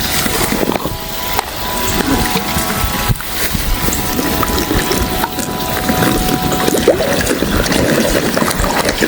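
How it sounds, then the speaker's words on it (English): Water gurgles and trickles continuously close by, with splashing and bubbling as liquid rushes into a submerged pool vacuum hose being filled to force out air for an above-ground pool, with no talking. "we are going to sink the hose and fill it with water"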